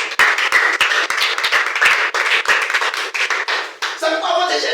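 A church congregation claps and applauds God in rapid, dense rhythmic bursts, close and loud, with cheering voices mixed in and the clapping thinning out near the end.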